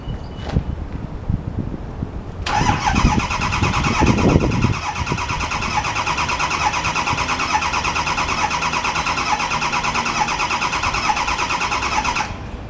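Ford F-350 with a 6.4 liter engine, needing jump boxes, cranks steadily for about ten seconds without catching, a loud continuous whirring starter drone preceded by brief knocks and rumble.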